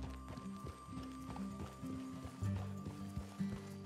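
Horses' hooves clip-clop at a steady walking rhythm in the video game Red Dead Redemption 2, several animals moving together with overlapping thuds under a low ambient drone.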